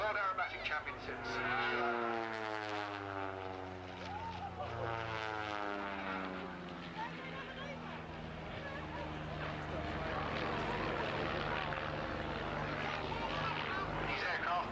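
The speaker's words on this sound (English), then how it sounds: "These aircraft powered by the Lycoming 360 engines, generating 180 horsepower" Aerobatic planes powered by 180-horsepower Lycoming 360 engines fly at the Abingdon Air & Country Fayre airshow. Their propeller drone swells and then drops in pitch as they pass by, and a commentator talks over it.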